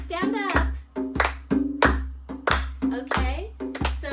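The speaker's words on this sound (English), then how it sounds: "So let's clap it out." A group of children and an adult clap their hands in a steady beat along to a counting song during kids' yoga circle time. About eight sharp, evenly spaced claps sound close by with voices between them.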